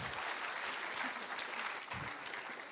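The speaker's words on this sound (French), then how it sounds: "On applaudit très fort" Loud, dense applause from an audience at an oratory masterclass, steady clapping filling the room throughout without a break.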